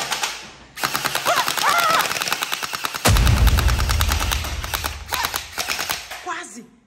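Rapid video game gunfire, dense bursts of automatic shots with a heavy, booming stretch in the middle, loud and close, with excited talk in Portuguese over it.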